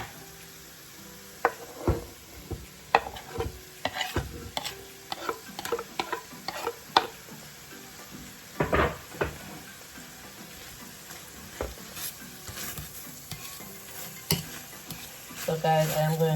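Cabbage and saltfish stirred in a pan for a Jamaican dish, making repeated sharp scrapes and clinks of a spoon against the pan over a soft sizzle, sometimes in quick bursts.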